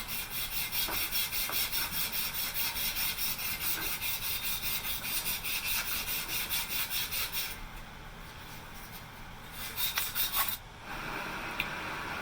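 Fine-grit sandpaper polishes the steam wand of a homemade stovetop steamer in close, steady back-and-forth rubbing strokes that keep an even rhythm, then slow and thin out near the end, with no voices.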